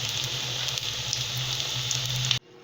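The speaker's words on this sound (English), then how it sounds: "Let it fry well. I have kept in the medium flame." Rice flour and sooji vadas fry in hot oil over a medium flame, a steady bright sizzle with fine crackling that holds evenly and then cuts off abruptly near the end.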